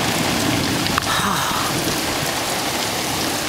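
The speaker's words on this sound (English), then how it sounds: "You could hear the rain." Steady, dense rain pouring down nearby, a continuous hiss of drops on surfaces with a brief knock partway through.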